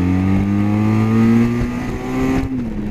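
Benelli TRK 502 motorcycle engine climbing through the revs with a 15-tooth front sprocket, a loud, close rising drone that eases off near the end.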